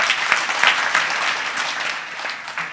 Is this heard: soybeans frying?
no